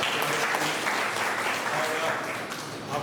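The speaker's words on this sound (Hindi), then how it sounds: "कुमकुम को भी हम तालियों के साथ।" Applause from a church congregation at a Sunday service, steady and fairly faint, sustained through the moment, with some voices faintly under it.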